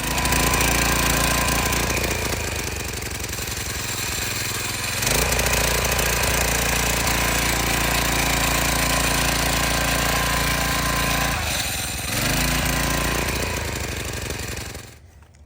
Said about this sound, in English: What you have here is a 2-man auger.